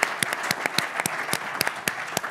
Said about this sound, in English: So let's give the panelists a round of applause.